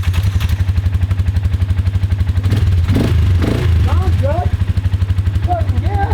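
A vehicle engine idles with a steady, close, rapid chugging rhythm after repair work, briefly revving in the middle, while a person talks over it.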